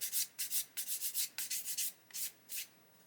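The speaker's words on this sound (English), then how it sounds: "with our sanding stick, just gently sand away until the sprue nib disappears" A sanding stick is rubbed against a plastic part from an Airfix 1/72 Lancaster B.III model kit, taking off a sprue nib. The close, dry rasping comes in about ten short regular strokes, with no voices.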